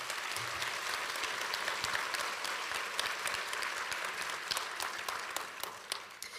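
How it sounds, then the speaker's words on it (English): Audience applause at a graduation ceremony, a sustained patter of many hands clapping at moderate distance, thinning toward the end into scattered individual claps. "So we may give all of them a round of applause."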